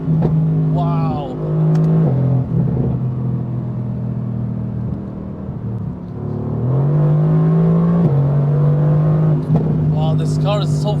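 A 585 HP Mercedes-AMG GT R accelerating hard on the autobahn in race mode, its engine droning loud and close from inside the cabin, pitch climbing through gears with distinct drops at each upshift, steady road rumble underneath.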